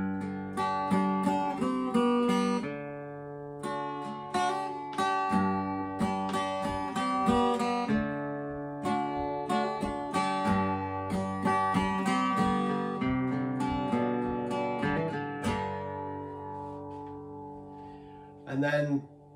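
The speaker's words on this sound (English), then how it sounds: "this is the sound of my acoustic guitar straight through the camera" Acoustic guitar recorded straight through a camera's built-in microphone, playing a steady run of plucked chords and melody notes for about eighteen seconds, fairly close and clear with no talking over it.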